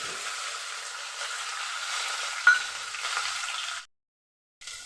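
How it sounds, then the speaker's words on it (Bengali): Ginger paste and chopped tomato fry in hot oil, giving a steady, close crackling sizzle that runs for about four seconds before cutting out, then briefly resumes. "আদা বাটাটা দিয়ে দিচ্ছি কিছুটা টমেটো কুচিয়ে নিয়েছিলাম টমেটো কুচানোটা দিয়ে দিচ্ছি"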